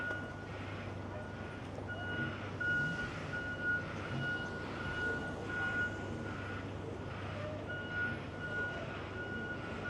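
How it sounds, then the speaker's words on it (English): A truck on King Street sounds its reversing alarm, a steady series of evenly spaced beeps over constant traffic rumble at moderate distance. "If you're wondering what all the beeping is about"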